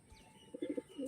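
Tournament pigeons coo in low throaty bursts, a cluster in the middle and another swelling at the end, close by and moderately loud, with a faint chirp and no voices.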